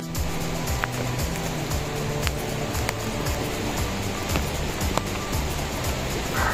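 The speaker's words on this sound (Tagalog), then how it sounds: "I am so lucky to be here in this stunning, majestic silver waterfalls" Silver Waterfall near Sapa, Vietnam, roars in rainy weather as a continuous, loud wash of rushing water, with gusts of wind buffeting the microphone and no talking.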